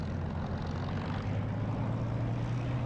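A Spitfire's propeller engine drones steadily in a DCS flight simulator, a low, even hum with a faint rising tone, heard alone and fairly quiet.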